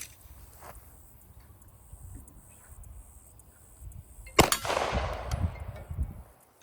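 A single sharp Glock pistol shot fired outdoors at a distant 150-yard target, one loud crack after a stretch of quiet background, followed by a lingering tail of noise.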